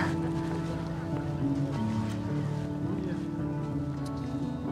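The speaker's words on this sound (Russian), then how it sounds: "Катер Фотон." A Foton motor boat runs on the sea off Sevastopol, giving a steady, continuous engine drone with wind and water noise throughout, moderately loud and unbroken.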